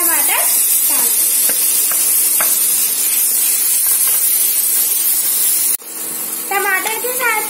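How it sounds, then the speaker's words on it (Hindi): Tomatoes go into a sizzling hot pan of tempering for dal, with a loud steady hiss and frying crackle throughout that drops in level near the end, while a voice talks over it. "और अब हम इसमें टमाटर डाल देंगे।"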